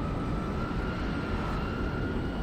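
An aircraft flying in the video game Crysis Remastered, a steady droning engine hum with a faint sustained whine, constant and close throughout.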